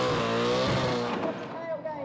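Burnout car at Perth Motorplex holding constant high revs, a loud continuous engine roar with tire squeal, dipping slightly toward the end.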